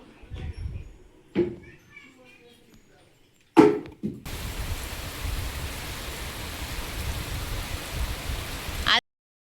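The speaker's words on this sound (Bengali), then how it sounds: "ভাতটা ফ্যান ঝেড়ে নেব" Starchy water being drained from a pot of cooked rice in a home kitchen: after some lid clatter and brief talk, a steady rushing pour runs for several seconds and ends with a knock.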